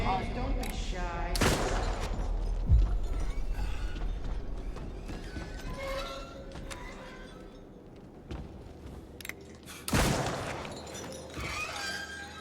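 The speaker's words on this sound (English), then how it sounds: "You hear the gun cock" A gun being cocked in a video game, a sharp mechanical click-and-ratchet standing out among loud impacts and clattering effects, with sudden bursts near the start and toward the end.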